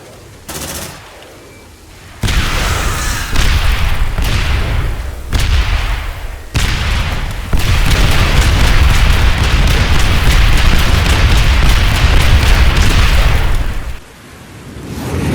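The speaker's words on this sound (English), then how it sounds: "Turns out blowing stuff up's cathartic." Explosions and heavy weapon fire in the Aliens Dark Descent video game, repeated booming blasts and dense sustained gunfire over several seconds, loud and close.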